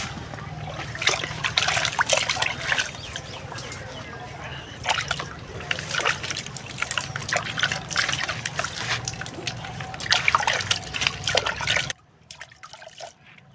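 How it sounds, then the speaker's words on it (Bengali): Water splashing and trickling continuously as a face is washed at a barber salon, close and fairly loud, with voices and background noise underneath before it cuts to near silence at the end. "এই আসো মুখ ধুয়ে দিই তোমার।"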